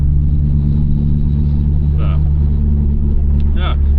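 Classic car fitted with SU carburettors driving along, its engine a steady, loud low drone and rumble that holds even throughout, with brief voices speaking over it.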